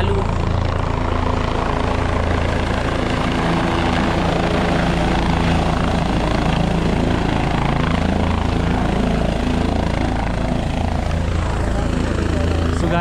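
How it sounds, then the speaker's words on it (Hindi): Loud, steady helicopter rotor thrum filling the whole stretch as it lands at a helipad in Kedarnath, close by and continuous, with voices faintly mixed in underneath. "अभी हेलीकॉप्टर आता है तो मैं आपको दिखाता हूँ उसकी लैंडिंग कितनी ख़तरनाक है"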